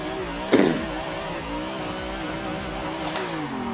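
A car engine drones steadily in a driving simulator as the car drifts and slows to regain grip, with a brief sharp transient early on and a wavering engine pitch throughout.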